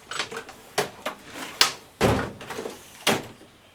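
Several sharp wooden knocks and bumps, like a drawer sliding and things being shifted inside, with irregular clatters over a few seconds.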